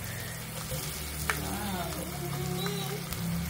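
Fish cake stir frying with onion and butter in a pan, giving a steady close sizzle with faint scraping stirs throughout and no talking.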